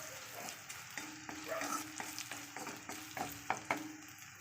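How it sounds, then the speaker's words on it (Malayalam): Green gram being stirred in a pan with crushed dried chillies, quiet sizzling with a series of spoon scrapes and taps against the pan at an uneven rhythm, close and faint. "ഇളക്കി കൊടുക്കുക."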